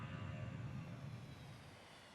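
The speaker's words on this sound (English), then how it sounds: "Plane engines go off." Plane engines in the Transport Fever video game: a faint, steady drone with a low rumble that fades slightly toward the end, with no talk.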